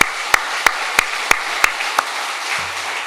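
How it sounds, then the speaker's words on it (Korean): A Korean church congregation gives praise applause to God during a service: about six sharp, evenly spaced claps ring out at a steady rhythm, fairly close, and then a faint low hum follows. "하나님께 영광의 박수 올려드리겠습니다."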